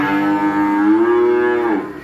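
A cow at a cattle farm moos once, a loud, close, drawn-out call lasting about two seconds that rises slightly and then drops off at the end, heard alone.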